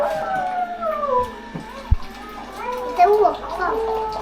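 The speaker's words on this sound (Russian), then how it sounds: "Это волк, пап." A wolf howl plays in a family sound-guessing game at home, long wavering tones rising and falling across the clip, with children's voices and household noise layered over it.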